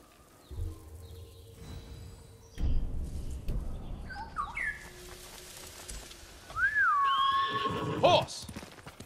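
A horse whinnies loudly in the video game Ghost of Tsushima, with hoofbeats clopping and a few bird chirps around it, amid game-like sound effects.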